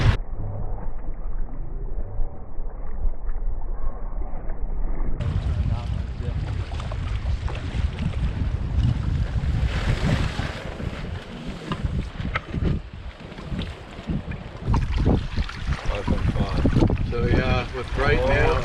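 Steady wind noise buffets the microphone on a bushcraft sailing canoe moving over open water on a northern wilderness trip, a constant rushing roar with gusty surges throughout.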